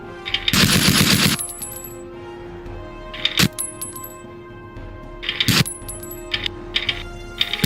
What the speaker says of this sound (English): load it into the Gatling gun, which fires a whole lot of bullets and can take someone down within a fraction of a second